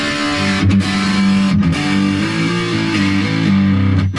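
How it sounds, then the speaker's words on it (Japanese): Electric guitar played through a distortion effects pedal in a metal style, heavily saturated chords with bright, biting highs ringing continuously for several seconds, loud and close with no talk. "歪みはこんな感じです。"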